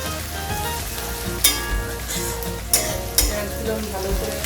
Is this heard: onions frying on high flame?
yes